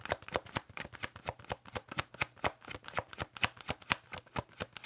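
Tarot cards being shuffled by hand, a quick run of crisp riffling flicks in steady rhythm, close and clear with no talking.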